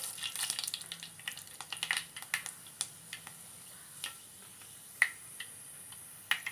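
Fenugreek seeds in hot oil for a sambar tempering give a faint low sizzle broken by sparse, sharp little pops and crackles, quiet and close.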